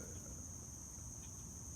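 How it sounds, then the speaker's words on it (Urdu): Crickets chirring in a park in a steady, unbroken high drone outdoors, with a low background rumble and no voices. "یہ چڑیوں کی موسیقی اور جھینگر کی آواز جو ہے یہاں ساتھ ساتھ چلتی رہتی ہے"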